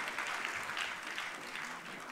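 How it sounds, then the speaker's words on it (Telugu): An audience claps together at a public event with Andhra Pradesh's chief minister, a dense, even wash of applause lasting a couple of seconds, fairly faint and distant, with no voices standing out. "గట్టిగా చప్పట్లు కూడా అభినందించాలి."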